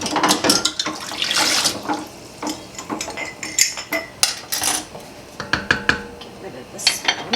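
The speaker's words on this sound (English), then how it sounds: "Let's grab a couple of jars." Glass canning jars being picked up and handled in a kitchen while making applesauce, a run of irregular clinks and knocks with some watery sounds, close and fairly loud.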